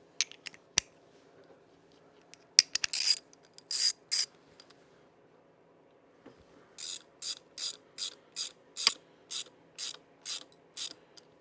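A ratchet running down bolts on a Sportster motorcycle neutral switch: a few scattered clicks, a brief burst of ratcheting, then a steady series of about a dozen evenly spaced close clicking strokes.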